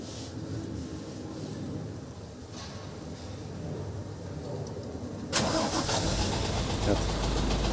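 Isuzu Giga 245 FVM or 240 PS truck diesel engine starts with a sudden jump in loudness, then runs at a steady, rough idle close by, with low background noise and faint talk under it beforehand.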